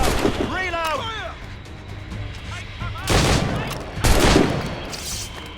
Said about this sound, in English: He's shooting back! Reload! Reload! Fire!